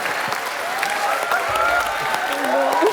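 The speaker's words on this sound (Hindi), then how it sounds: "सुगंधा के लिए जोरदार तालियां।" Studio audience on The Kapil Sharma Show breaks into loud, sustained applause, a dense wash of clapping lasting the whole moment, with a voice and some tonal sounds faintly underneath.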